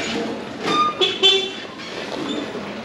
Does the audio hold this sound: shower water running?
no